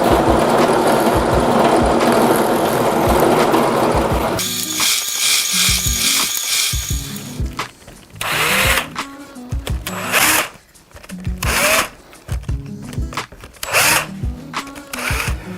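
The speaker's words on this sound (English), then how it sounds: "chuck a countersink up in your drill press and or your hand drill" A drill press with a countersink bit cuts into wood for a wooden Christmas tree, first a steady loud whir, then short bursts of cutting and grinding between pauses.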